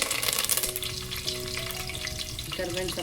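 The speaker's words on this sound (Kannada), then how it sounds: "ಎಣ್ಣೆ ಬಿಸಿ ಆದಮೇಲೆ ಸಾಸಿವೆನ ಹಾಕೋಣ. ಹಾಗೆಯೇ ಫ್ರೆಶ್ ಕರಿಬೇವಿನ ಸೊಪ್ಪು" Mustard seeds and fresh curry leaves sizzle loudly in hot oil, a dense, crackling hiss with rapid popping that continues for the whole clip with no talking.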